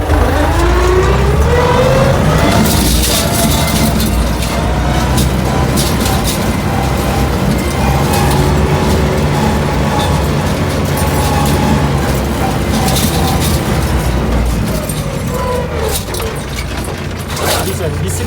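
Tractor turning around in a wet field while ploughing, its engine droning loud and close throughout with rising and falling revs and occasional clanks, someone talking over it.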